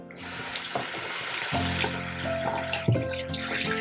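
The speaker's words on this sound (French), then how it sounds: "nous allons rincer le gant" A washcloth being rinsed under running water at a sink, a steady splashing hiss with sloshing shifts as the cloth moves through the stream, close and continuous.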